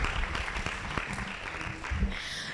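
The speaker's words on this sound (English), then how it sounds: "Give yourself a round of applause." Applause from an audience at an agricultural prize competition final, a dense, steady wash of many hands clapping at moderate distance for a couple of seconds, with a few sharper claps standing out.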